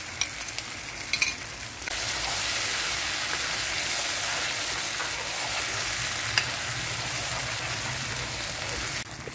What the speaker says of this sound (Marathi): दही टाकून 2 ते 3 मिनिट हा मसाला परत चटपट करून घ्यायचा